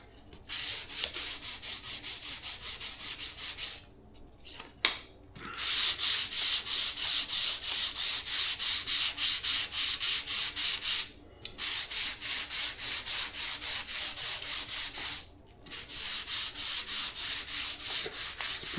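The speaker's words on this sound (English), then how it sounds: "they recommend sanding with at least 400 grit before covering" A model plane being hand sanded with 400 grit sandpaper, steady, rhythmic back-and-forth rasping strokes heard close up in long runs, with a few short pauses between them.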